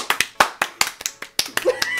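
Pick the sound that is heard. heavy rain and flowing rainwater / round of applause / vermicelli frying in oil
round of applause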